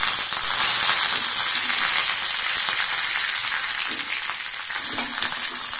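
Curry leaves hit hot oil that already holds mustard seeds and urad dal, a loud and continuous close-up sizzle with a hissing, crackling spread that fills the whole stretch.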